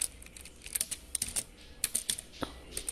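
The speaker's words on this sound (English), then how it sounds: "type your email" An email address is typed on a computer keyboard in a run of quick, light, close clicks with uneven rhythm and short pauses between bursts, fairly quiet with no voice.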